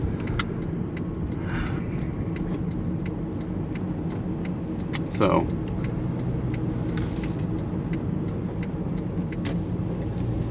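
Car interior road noise with a steady engine and tire rumble throughout, a faint ticking like a turn signal, and a brief louder swish midway; a single short word is spoken near the start.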